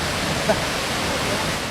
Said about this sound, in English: Quite the waterfall.